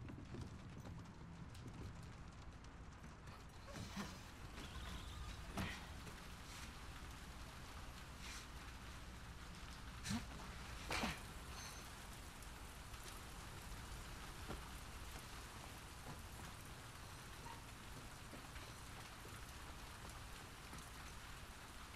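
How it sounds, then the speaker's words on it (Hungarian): Steady rainfall in the video game The Last of Us Part II, a dense, even patter on surfaces throughout, with a few sharper taps and knocks standing out, and no talking. "De tök hangulatos, hogy esik az eső."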